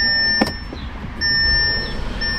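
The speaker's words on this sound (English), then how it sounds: "So if I press the button, listen to how long it takes the car to actually start." A 2023 Audi A3 is started by push button: steady electronic chime tones sound first, then after about a second the engine catches and settles into a low, steady idle rumble.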